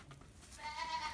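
A goat kid on a small farm lets out a near, fairly loud bleat in the second half of the moment, after a brief quieter stretch.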